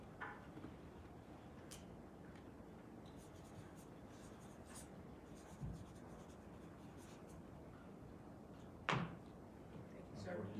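Pen scratching across paper as the governor of Texas signs a bill, a soft continuous scribble under faint room murmur and quiet speech, with a couple of light knocks as pens are set down.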